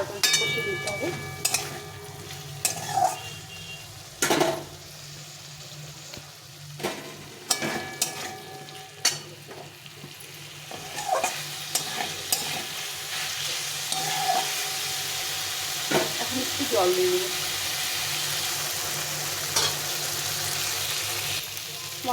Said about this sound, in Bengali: এখন আমি পটল আর আলুগুলো দিয়ে দিই, দিয়ে ভালো করে কষিয়ে দিতে হবে।